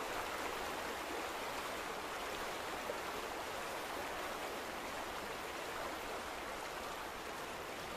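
Water rushing steadily through a dam in The Vanishing of Ethan Carter, a constant, even broadband hiss like a stream or small waterfall, unchanging and moderately loud throughout.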